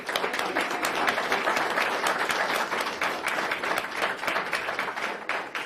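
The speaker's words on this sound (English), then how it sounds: "can everyone give them a round of applause?" An audience at a school board meeting claps for two honorees, a sustained round of many hands clapping at an even level, fading slightly near the end.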